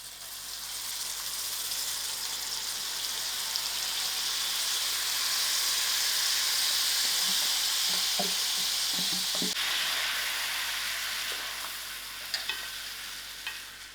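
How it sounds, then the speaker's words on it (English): Spinach mixture sizzles in a pan with cooked tomatoes for palak paneer, a loud continuous hiss that holds for most of the stretch, then eases with a few faint clinks and stirring taps near the end. "Now I'm just going to add in my spinach"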